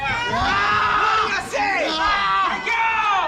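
A wrestler cries out in pain while locked in a karambit octopus-style hold at a CHWA pro wrestling show. The strained yells run continuously over a roaring arena crowd, with louder bursts near the middle and end.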